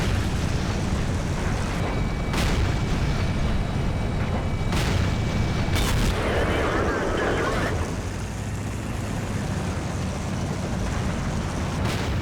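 Tank guns fire in a World of Tanks battle involving a Conqueror heavy tank, a few heavy booms and impacts over a constant dense rumble of engine and battlefield noise.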